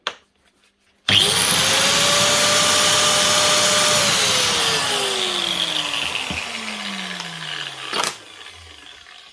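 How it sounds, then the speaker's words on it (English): Bosch GAS 1200L professional vacuum cleaner switching on with a loud whirring motor that holds steady, then winds down as it is switched off, with a sharp bump near the end. "One Bosch GAS 1200L professional vacuum. Up and running again"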